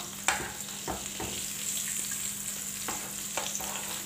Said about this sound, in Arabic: نزيدو نديرو السردين، نزيدو نقلو الاخرين